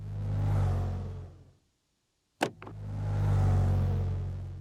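A car engine revving sound effect, triggered in Krotos Igniter, revs up and fades away, cuts to a brief clunk and click, then revs up again, loud and close.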